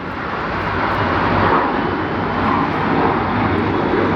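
A SkyWest airliner jet at DFW airport gives off a loud, broad, steady engine roar that holds evenly throughout, with no voices.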